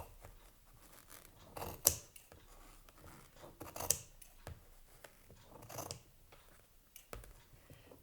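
Scissors cutting material for rag doll hair in a few quiet, separate snips, close to the microphone and faint against a hushed room.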